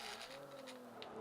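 A race car in Forza 5 struggles out of a corner at Catalunya National, its engine dropping below 4,000 revs. A steady strained tone holds low in pitch and slightly rising, close and continuous, with no talking.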